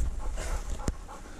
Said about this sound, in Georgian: მოდი ჩემთან აი ეს არის კომფორტი ძაღლი